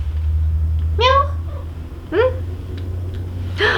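A pet cat meows three times at separated intervals, the calls close and clear over a steady low hum, with no talking.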